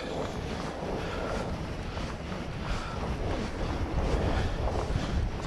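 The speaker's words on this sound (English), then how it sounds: "It's a cold, windy day." Strong wind on a cold day on a fat-biking trail buffets the microphone continuously, a dense roaring rush with gusty swells that never lets up.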